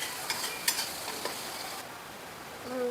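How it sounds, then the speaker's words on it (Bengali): Onion frying with ginger, chili and garlic paste sizzles steadily in a pan, broken by a few sharp stirring scrapes early on, with the hiss easing toward the end. "এবার এতে আদা, লঙ্কা, রসুন বাটাটা দিয়ে দেবো, দিয়ে ভালো করে ভাজা ভাজা করবো"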